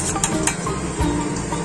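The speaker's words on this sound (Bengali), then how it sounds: "ভালো করে নাড়িয়ে নেব।" Coconut milk and yogurt being stirred in a pan, with a spoon rhythmically scraping and tapping the metal over a faint sizzle, close and steady with no talking.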